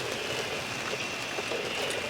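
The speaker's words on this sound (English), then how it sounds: "It's actually raining" Steady rain falls outdoors at a house before a gender reveal event, a constant soft hiss of drops spread evenly across the whole stretch with no talking.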